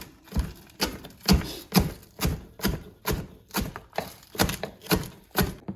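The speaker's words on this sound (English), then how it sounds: "And now I'm gonna chop 2 scallion fine." A knife finely chops two scallions on a cutting board, with a steady run of about a dozen close, evenly spaced thuds, with no voices.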